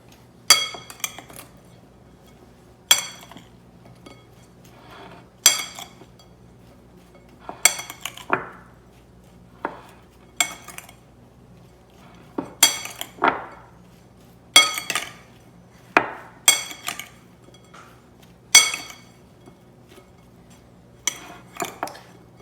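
Utensils knock and clink against a bowl while Caesar salad ingredients are tossed, a series of about a dozen sharp, bright taps spaced a second or two apart, close and clear over quiet background.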